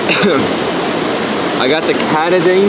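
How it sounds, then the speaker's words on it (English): A waterfall roars steadily and loudly in the background beside a water source, a constant broad rush with someone talking over it. "sorry about the noise of the waterfall in the back"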